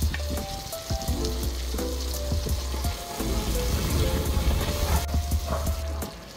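Pork dropped back into a hot frying pan with tomato and onion, crackling and sizzling steadily and loudly for several seconds. Scraping and stirring knocks come through the hiss, which fades near the end.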